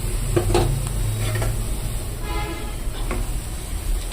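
Green chili and chopped tomato are stir-fried for chow mein, giving a low continuous sizzle with a few scattered stirring scrapes against a steady rumbling background.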